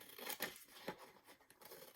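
Quiet snips of scissors cutting paper, a few short crisp strokes close by.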